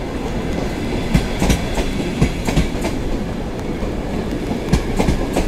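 An Intercity train rolls through Warsaw East station with a loud, steady rumble and rhythmic clickety-clack of wheels over rail joints, close by and without talk.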